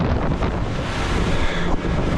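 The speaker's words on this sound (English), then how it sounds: "There's breaking waves ahead." A small boat pushes through rough chop toward breaking waves in a coral reef lagoon, with loud wind buffeting the microphone and surf crashing in a continuous roar.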